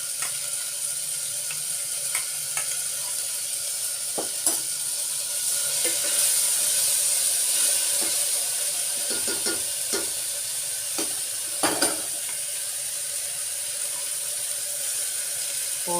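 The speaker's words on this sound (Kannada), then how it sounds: "ಈಗ ಇದರ ಹಸಿ ವಾಸನೆ ಹೋಗೋ ತನಕ ನಾವು ಸಣ್ಣ ಉರಿಯಲ್ಲಿ ಹುರ್ಕೊಳ್ಳೋಣ ಇದೆಲ್ಲ" Whole spices roasting in a pan over a low flame while being stirred, a steady soft sizzle with scattered scraping clicks of the spoon against the pan, close and continuous.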